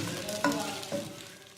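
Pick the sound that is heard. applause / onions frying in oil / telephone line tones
onions frying in oil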